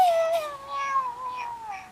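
A Hatchibaby toy, a cheetah-bird hatchling, gives a few short electronic cat-like mewing tones through its small speaker, thin and gliding, close and fairly quiet.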